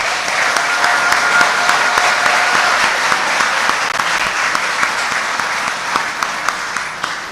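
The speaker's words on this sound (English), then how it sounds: "I think we should give the graduating class a round of applause" A crowd applauds the graduating class at Saint Mary's Academy's 2023 graduation ceremony, with loud, sustained, dense clapping that runs evenly throughout, with some individual claps standing out.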